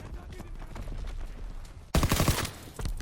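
Shotgun fire in the video game Call of Duty WW2: after a quieter stretch of game noise, a loud cluster of sharp blasts and impacts breaks in partway through.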